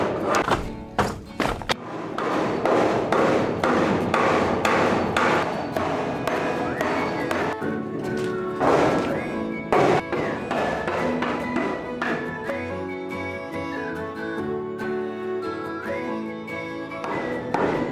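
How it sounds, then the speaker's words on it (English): Wood blocking and shims are driven with a hammer between steel beams inside a safe room, a series of loud close thuds in irregular bursts with ringing metallic overtones. "I'm hammering them in there, and wherever there's a little bit loose, I'm hammering in a shim to lock it in place."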